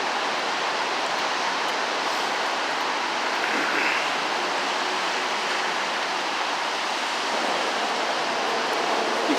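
Water running off from a large water main break at Neponsit Circle, a steady broadband rush and hiss like a stream, continuous and moderately loud with no voices.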